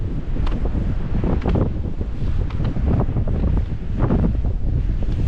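Wind buffeting a microphone outdoors in a park, a continuous loud low rumble with gusty swells and rustling, close and unbroken throughout, with no voices.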